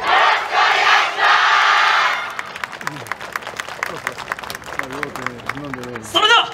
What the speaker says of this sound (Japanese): 手拍子ご声援のほどよろしくお願いします